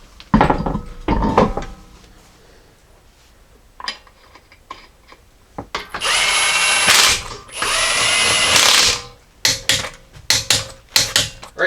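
A power tool, likely an impact gun, fastens a wheel back onto a Jeep Grand Cherokee: bursts of whirring and rattling zips close by, interspersed with metallic clanks and tool handling noises.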